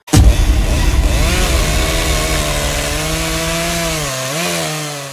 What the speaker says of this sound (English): He ran to the girl and placed the spinning chainsaw right on her skull.